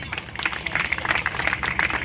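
Audience applause at a village event in Jind marking the release of a postal stamp featuring the Kila Zafargarh fort, a dense crackle of hand claps filling about two seconds with steady, moderate intensity.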